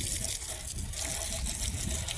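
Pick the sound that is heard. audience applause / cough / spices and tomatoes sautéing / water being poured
water being poured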